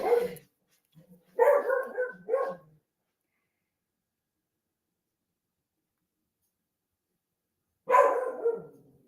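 A dog barks at home in short bursts: a bark, a quick double bark a second later, then silence and another bark several seconds on, loud and close.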